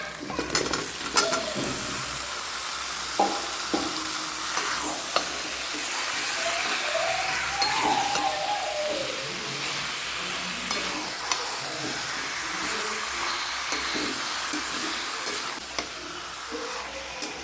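Meat and potatoes frying in a spiced masala in a pan, a continuous loud sizzle with repeated scraping and clinking stirs of the spatula, close up and alone.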